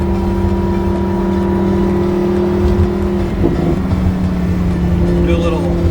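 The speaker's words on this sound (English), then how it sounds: "first-person POV driving the Lambo." A Lamborghini sports car engine holds a steady, loud droning hum while driving at an even pace, with a slight rise in pitch toward the end.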